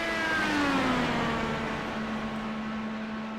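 An IndyCar engine on a warm-up lap at about 200 mph: a loud, sustained high whine that drops steadily in pitch as the car sweeps past, with no talk.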